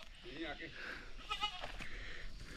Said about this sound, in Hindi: ये दिनेश जी की गाय है, बकरियाँ हैं।